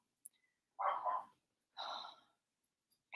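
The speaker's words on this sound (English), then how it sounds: "My dog's barking." A pet dog gives two short, muffled barks or huffs about a second apart, faint and somewhat distant in an otherwise quiet room.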